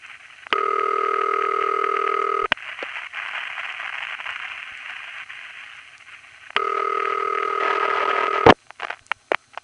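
A 1970s New York standard city ringback tone from the Forest Hills exchange, a steady two-tone buzz ringing for about two seconds, a pause of line hiss, then a second ring, ending in clicks and line noise.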